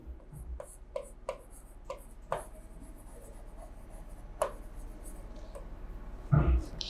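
Pen writing by hand on paper while noting accounting entries, a series of soft scratchy strokes and taps at close range, with a louder rustle near the end.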